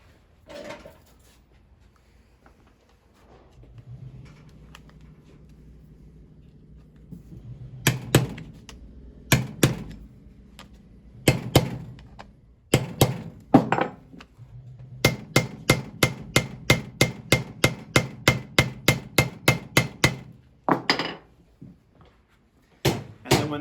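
Solid copper rivets on a waxed canvas workshop apron are hand-hammered on an anvil, with sharp metallic strikes coming in scattered single blows and then a fast, steady run of close, loud taps, and no talking.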